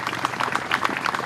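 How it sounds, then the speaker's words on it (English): Audience applause for a Marine regiment's Color Guard at an evening rededication ceremony, a short burst of many hands clapping steadily in an indoor hall. "Could I ask for a round of applause for our Color Guard?"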